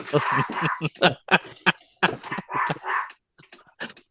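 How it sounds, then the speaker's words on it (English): Two dogs barking angrily in repeated rapid bursts, loud and close, with yips and whimpers mixed in and brief pauses between volleys. "Holy cow, what are they so angry about? Do you think that's 2 dogs or 1? That's two."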